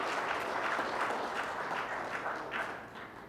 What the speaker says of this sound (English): I think they all deserve a round of applause for their contribution.